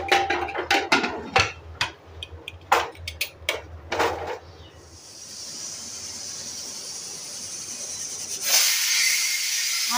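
Pressure cooker cooking dal khichdi, first a series of sharp rattling clicks and bursts, then a long loud steady hiss of escaping steam that swells into a sharper whistle near the end.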